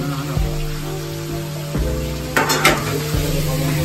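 Chicken stew cooks in a pan with a steady sizzle and frying hiss, broken by a few loud metallic clanks of a utensil stirring against the pan.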